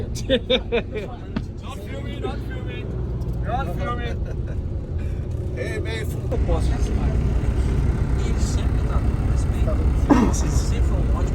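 A party bus rumbles along with a steady low engine drone that swells slightly toward the end, while people talk and chatter over it in the foreground.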